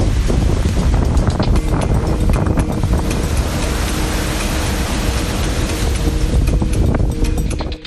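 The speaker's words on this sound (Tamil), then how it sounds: "தட்சிண கன்னடா பகுதியில் கடற்கரையோரத்தில் கடும் சூறாவளி காற்றுடன் கடல் சீற்றத்துடன் காணப்பட்டது." Strong cyclone wind roars against the microphone on the Dakshina Kannada coast while rough sea waves surge underneath, a loud unbroken blast of noise throughout with no voices.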